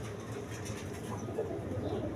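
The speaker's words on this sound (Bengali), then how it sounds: "হাই ফিলিং গিরিবাস কবুতর" Giribaz pigeons at a pigeon farm coo softly and continuously, low throaty murmurs layered close together with faint background noise.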